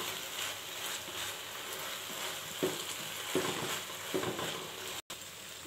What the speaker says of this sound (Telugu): ఇలా ఉడుకుతున్నప్పుడే ఒక స్పూన్ ఘీ యాడ్ చేయాలండి ఇది కేసర కదండి దీనికి ఘీ ఉంటేనే టేస్ట్ బాగుంటదండి ఇదంతా బాగా మిక్స్ చేసుకుందాం